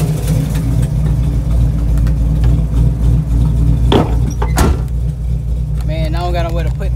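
A small engine runs steadily after a carburetor repair, a continuous low idling rumble with slight revving swells and a few clanks partway through, close and loud throughout.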